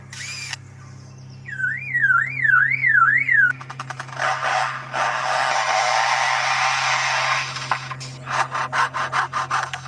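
An Australian lyrebird mimics mechanical noises: a warbling alarm-like siren, then raspy rhythmic sawing and scraping strokes, loud and close.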